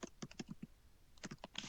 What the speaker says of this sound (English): you can see as I'm typing